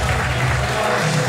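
Crowd applause at a wrestling event, a dense, steady wash of clapping that holds at an even level for a little over a second with no break.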